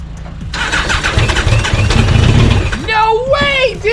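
A 1200cc Thunder Roadster race car, primed with starting fluid after sitting abandoned, cranks and sputters into a rough, uneven running engine. Excited voices shout over it near the end.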